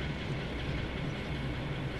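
West Somerset Railway train running in Train Sim World 2, a steady broadband rumble and clatter of wheels on rails throughout, alone with no voices.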